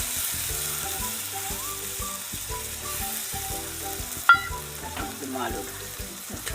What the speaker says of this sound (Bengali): দিয়ে দিচ্ছি লঙ্কা বাটা, শুকনো লঙ্কা বাটা